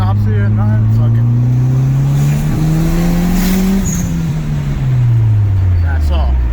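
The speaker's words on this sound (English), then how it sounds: "Let's do a second gear pull." A car with a blown turbo pulls hard in second gear, a loud, close engine drone climbing steadily in pitch, then dropping off as the throttle lifts, with a voice partly under it.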